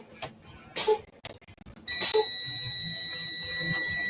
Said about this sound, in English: So now I can hear the low air alarm.